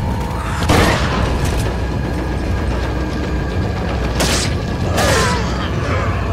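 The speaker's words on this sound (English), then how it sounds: "Fuck it, we'll just use the shotgun." Resident Evil 4 shotgun blasts ring out as three sharp, loud booms spaced a few seconds apart, each followed by mechanical clatter, over a dense, constant game background.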